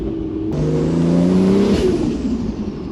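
A Toyota AE86 engine running on about 50% ethanol revs hard up close, its pitch climbing steadily for about a second before easing off, with a loud, continuous drone throughout.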